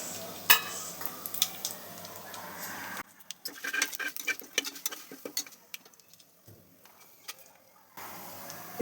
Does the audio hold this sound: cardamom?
yes